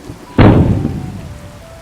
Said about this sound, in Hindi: प्रतियोगिता की रात अचानक डरावना तूफान आया। तेज हवाएं, कड़कती बिजली, पेड़ टूटकर गिरने लगे।